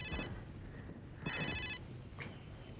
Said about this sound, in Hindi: एक मिनट, पापा का फोन है.